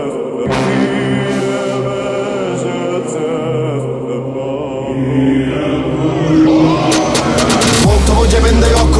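A car engine revs loudly and steadily throughout, its pitch climbing toward the end before a sudden change in tone.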